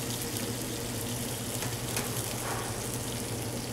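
Sesame-crusted ahi tuna sears in a hot pan, a steady close hiss of sizzling oil running evenly without talk.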